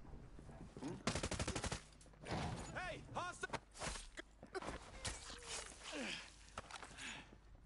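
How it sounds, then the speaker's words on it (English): Bursts of gunfire in the tactical shooter Ghost Recon Breakpoint: a rapid automatic volley, then scattered single and clustered shots amid footsteps and movement, with voices speaking over the exchange. "Shots."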